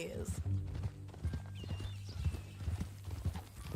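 Horse hooves clop in a quick, uneven rhythm in Cyberpunk 2077, sitting beneath a man's dialogue over a low rumbling game ambience.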